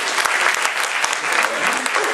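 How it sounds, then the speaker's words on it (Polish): Big audience applause at a Polish cabaret show, dense loud clapping filling the room steadily throughout with no speech. "O, brawa wielkie"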